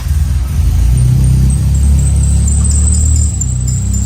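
A Mercedes 190E Evo 2 engine rumbles loud and close at a steady idle, a deep low drone that holds for a few seconds before easing slightly near the end.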